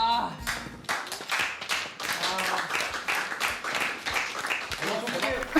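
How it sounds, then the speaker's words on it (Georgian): Indoor applause for designers and illustrators at a product-making meeting, a few seconds of continuous close hand clapping mixed with overlapping voices and cheers. "აპლოდისმენტები"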